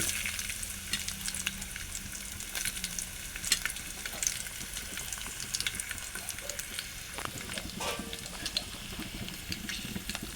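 Garlic frying in hot oil for buttermilk kadhi, a steady crackling sizzle with scattered sharp pops, close and continuous throughout with no talk.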